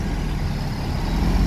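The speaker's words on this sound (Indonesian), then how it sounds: "Ada masuk lagi ya, bus Padang ini. Nah, ini Transport Express Jaya." A Transport Express Jaya Padang intercity bus rolls by during busy holiday homecoming traffic, its heavy diesel engine giving a close, steady low rumble throughout with no talking.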